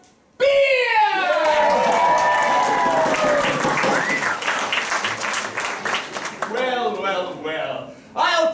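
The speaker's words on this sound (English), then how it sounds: "You, my friend, get a special round of applause." At an improvised Dungeons & Dragons theatre show, an audience breaks into applause and cheering, with voices calling out over the clapping; the noise dips midway and swells again briefly before cutting off.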